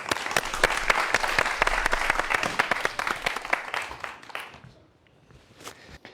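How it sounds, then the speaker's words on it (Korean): An audience applauds a professor coming up to lecture on wearable robots, the clapping loud and dense at first, then thinning out and dying away to near silence before a few last scattered claps. "박수로 한번 청해 보도록 하겠습니다"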